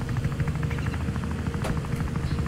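Steady low rotor chop of a helicopter in a video game, continuous and fairly loud, with a dense whirring drone and a brief high swish midway.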